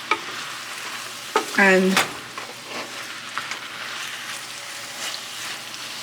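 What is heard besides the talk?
stirring sauce with basil in a pan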